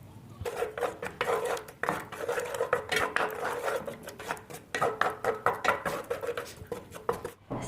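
A utensil stirs eggs and spices in a wok, scraping and clinking against the metal in quick repeated strokes, close and clear with no talking.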